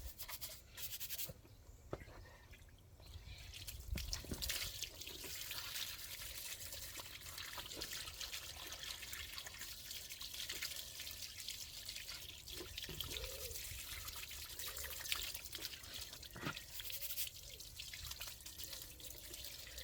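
Water running and splashing while an RC crawler chassis is rinsed, a soft continuous trickle and spatter heard faintly and close, with no talk.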